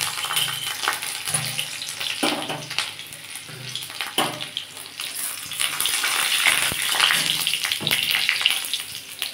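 Garlic cloves dropped into hot oil in a pan set up a steady sizzling hiss that carries throughout, with a few soft clanks of a utensil against the pan.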